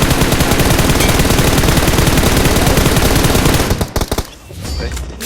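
Automatic gunfire in PUBG: a loud, continuous rapid-fire burst that runs for several seconds, then breaks into a few separate shots before dying down.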